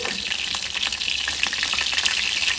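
Catfish fries golden in a pan of hot oil. A steady, close crackling sizzle with dense spitting pops runs throughout with no voices.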